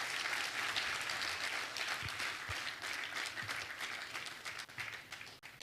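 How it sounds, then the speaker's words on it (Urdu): An audience of young people at a federal minister's address applauds in a sustained, even round of clapping that sounds distant and fairly quiet, easing slightly toward the end. "تالیوں کا ایک دور ہونا چاہیے."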